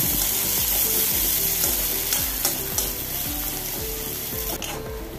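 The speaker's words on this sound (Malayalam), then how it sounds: "ഇനി 2 സവാള അരിഞ്ഞത് എണ്ണയിലിട്ട് കൊടുക്കാം. ഒന്ന് ഇളക്കി കൊടുക്കാം." Chopped onions, two of them, sizzling in sunflower oil while being stirred, a steady loud frying hiss with repeated scraping strokes of the spoon throughout, no voices.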